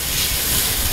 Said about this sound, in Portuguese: Então, o alho aqui está dourando.